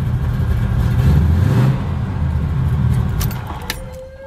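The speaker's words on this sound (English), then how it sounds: "I can get more RPM out of it on the foot brake" A supercharged Cutlass engine roars while stalled up on the foot brake, holding a loud, steady revving drone close by before easing off, with a faint metallic jingle near the end.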